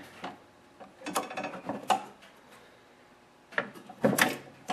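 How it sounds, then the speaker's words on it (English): Snowblower auger control lever pressed down, the mechanism clicking and clunking at the pulley in a few short mechanical bursts separated by pauses, close and moderately loud. "Now, Craig's going to press down the auger lever. You're going to see that part come up from the pulley"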